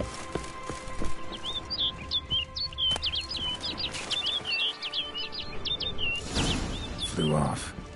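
A bird in the fantasy video game The Witcher gives a rapid run of sharp chirps and tweets for several seconds over a quiet ambient backdrop. A louder rustling burst comes near the end.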